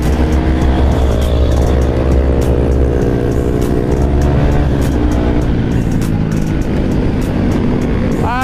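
A large group of supermoto motorcycles rides past on a road, their loud, close engines layering into a dense, rising and falling roar that fills the whole stretch.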